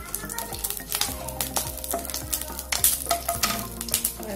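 Three green chilies fry in hot oil in a pan, a busy close sizzle broken by repeated spatula stirs and scrapes that come in an uneven rhythm.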